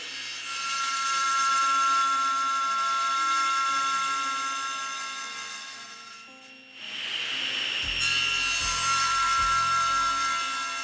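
A table saw rips a wood board guided along the fence, a loud, steady whine of the blade that drops briefly as the cut ends, followed by a few low knocks as the board is handled.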